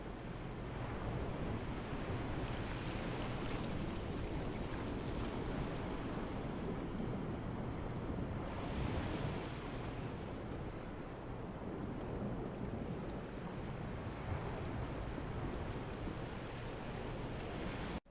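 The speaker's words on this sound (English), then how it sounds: "from the ominous waves from the main menu." Ominous ocean waves on the main menu of the game Gloomwood, a dense continuous wash of surf and wind rolling in slow swells, steady and enveloping with no voices.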